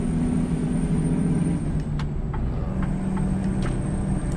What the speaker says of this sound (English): true sounds of a tire on a gravel road, and the effects of the bumps on the truck